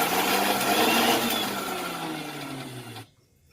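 An electric grinder runs steadily, churning ginger, garlic and green chili into a paste. Its even whirring hum holds for about three seconds, then cuts off abruptly into near silence.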